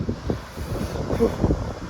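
Wind gusts rush across the microphone on a hot trek in Tamil Nadu, giving uneven low rumbling bursts over two seconds, with faint voices underneath.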